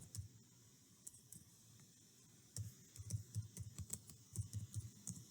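Fingers type on a computer keyboard in quick, irregular bursts of soft clicks, close and faint in a quiet room, the taps growing denser toward the end.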